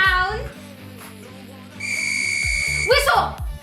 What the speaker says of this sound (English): whistle.